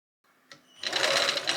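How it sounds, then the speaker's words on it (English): Sewing machine top stitching a folded wool skirt waistband, a steady close run of rapid stitching that starts after a short quiet lead-in and keeps going to the end. "Fold it in and top stitch it down."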